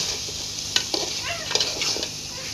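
Beef simmers and browns in a pot while a spoon stirs it, sending a bed of frying sizzle under several quick scraping strokes and clinks against the metal.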